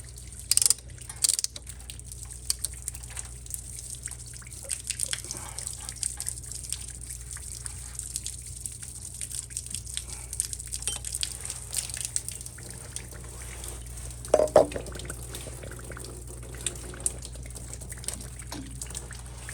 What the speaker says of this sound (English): Just gonna let it run out. That's the water from the street.